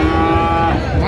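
Bull calf mooing loudly and close at a cattle market selling Friesian and crossbred bull calves, one sustained low moo filling the whole moment.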